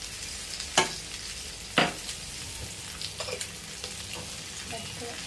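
Gram-flour-coated fish frying in a pan over low heat gives a constant bright sizzle, with two sharp scrapes of a spatula and lighter clinks as the pieces are turned, up close and without speech.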